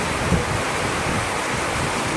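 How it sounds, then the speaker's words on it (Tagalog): Strong wind blows outdoors across a rice-growing farm, a loud, steady broadband roar buffeting the microphone with no pauses and no talk. "Mahangin."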